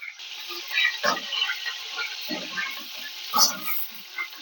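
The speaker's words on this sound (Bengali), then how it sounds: "তার আগে আলুটা একটু ভালো করে ভেজে নেব।" Potato pieces frying in a pan for a mixed vegetable dish give a soft, steady sizzle, broken by a few muffled knocks as they are stirred. The sound is close and moderately quiet, with no voices.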